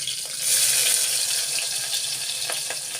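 Finely chopped green chilli and onion sizzle in a pan, a steady hissing crackle with a few sharp pops toward the end.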